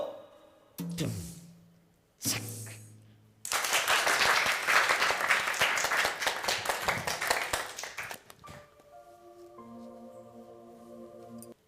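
A group of children claps and applauds, a dense burst of hand claps lasting several seconds that starts abruptly and then fades. Short tonal musical sounds come before and after it.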